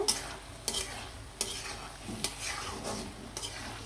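Boiled potatoes being stirred and sautéed in a pan while cooking noodles: a faint sizzle under a series of separate spatula scrapes and knocks against the pan, close up with no talking.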